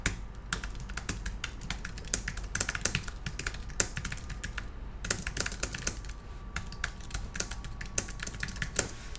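Rapid typing on a computer keyboard while composing an email message, dense clicking keystrokes in quick bursts with short pauses, close and steady over a faint low hum, no voices.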